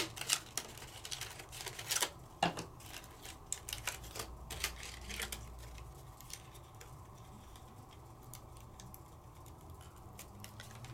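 Die cutting machine pressing a butterfly die through paper, with a quick run of sharp clicking and ratcheting ticks early on that fade into quieter mechanical clatter, close and faint overall.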